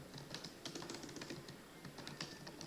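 Someone types on a computer keyboard while entering details into lab software, producing steady quiet irregular key clicks close by.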